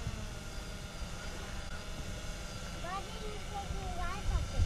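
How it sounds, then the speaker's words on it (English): A DJI Phantom drone's motors spin up outdoors at a fishing spot, a faint rising whine under a steady background rush while people talk nearby. "Oh, because the drone started."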